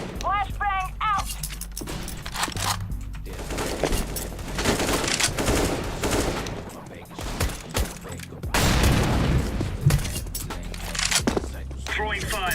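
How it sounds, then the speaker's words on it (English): Video game combat with a flashbang grenade and gunfire: bursts of shots, bangs and scraping clatter come in clusters amid loud game noise, with voices talking over parts of it. "Flashbang out!"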